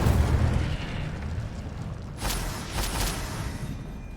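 Incendio fire spell cast in Hogwarts Legacy, two quick whooshing bursts of flame in the middle, set against a low rumbling game background with a heavier thump at the start.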